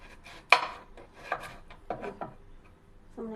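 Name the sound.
cutting coconut for chutney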